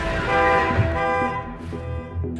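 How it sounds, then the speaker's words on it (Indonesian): A car alarm sounds in a snowy film scene, with loud sustained blaring horn tones that pulse and shift in pitch for a couple of seconds, close and alone. "Emma menyalakan alarm mobil."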